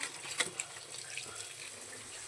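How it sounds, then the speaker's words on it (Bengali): Tap water runs steadily into a sink while soft, tender leafy greens are rinsed, a continuous close splashing flow with a few brief clatters and no voices. "শাকটা একটু ধুয়ে নেব এত সফট নরম কচি শাক"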